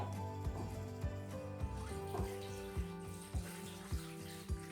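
Tap water runs into a Power Pressure XL pressure canner being filled for canning potatoes and green beans, a steady watery rush carrying repeated sharp clunks and knocks at a moderate level.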